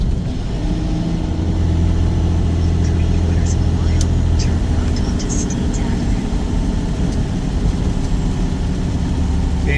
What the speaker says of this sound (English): they're rattling as I drive this truck down the street.